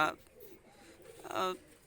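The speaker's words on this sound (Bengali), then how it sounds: "তো দেখেন ভিউয়ার্স এই দুইটা কবুতার" Pakistani highflyer pigeons, a mated pair, cooing in two short, low, throaty bursts separated by a brief pause, close by and fairly soft.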